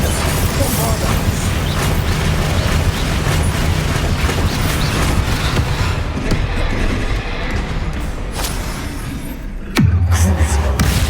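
Spell blasts from Confringo and Bombarda in Hogwarts Legacy, a dense barrage of booming bursts and crackling impacts under steady game noise, with a heavy low thump near the end.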